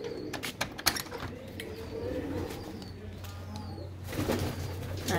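Pigeons in a fancier's loft coo low and continuously nearby, with a few sharp clicks and flutters at the start and brief higher chirps scattered through.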